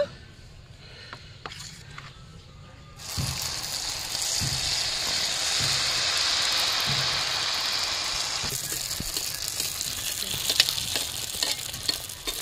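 Galfulano pitha frying in hot oil, a steady loud sizzle that swells sharply after a few seconds as oil is spooned over the top, with soft scraping and bubbling continuing throughout.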